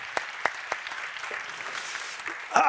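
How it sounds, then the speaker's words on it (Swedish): An audience thanks three panelists after a discussion about choosing between the Drupal, EPiServer and WordPress content management systems. A few sharp claps open, then scattered clapping thins out before a voice starts speaking at the end. "Då tycker jag vi tackar de här tre med en applåd."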